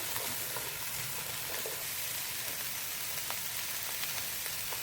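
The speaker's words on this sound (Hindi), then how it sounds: "हाई फ्लेम के ऊपर हम इसे भूनेंगे।" Something frying on high flame, a chilli chicken base, sizzling steadily and evenly throughout with a dense crackling hiss and a few sharper pops, close and alone without any talk.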